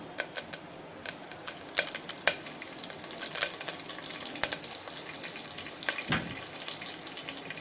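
Curry leaves fry in hot oil, crackling and popping in sharp, irregular bursts over a low steady sizzle, close and moderately quiet.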